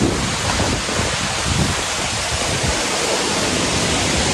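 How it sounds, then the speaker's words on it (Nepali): A waterfall on a family trip from Bindipur to Chiwan, heard as a steady, loud, full rushing roar of falling water that stays constant throughout, with no voices. "त्यो झरना आज चाहिँ मेरै आँखाले देख्न पाइछु"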